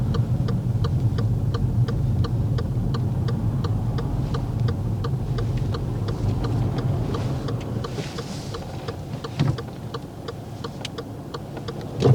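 A car's turn signal indicator ticks in a steady, even rhythm inside the cabin during a driving test at a roundabout, over a low engine and road hum.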